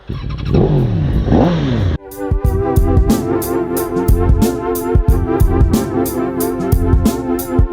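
A Yamaha MT-10 (FZ-10) motorcycle rides off with a loud, close engine rumble that builds into a steady, throbbing pull, with gear and road clatter mixed in.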